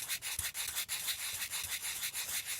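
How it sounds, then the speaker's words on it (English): Wet sandpaper rubbing rust off a shifter knob: quiet, close, steady back-and-forth scrubbing strokes in a quick even rhythm, with no voices. "I'm just going to use just the wet sandpaper."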